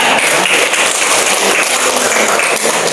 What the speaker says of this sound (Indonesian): Oh ya, tepuk tangan untuk pertanyaannya.